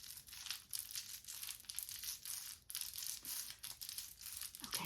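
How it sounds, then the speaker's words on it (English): Trader Joe's grocery packaging being crinkled up close, soft repeated crackles and rustles in uneven bursts, quiet and with no voice. "I think there's going to be quite a bit of crinkly items."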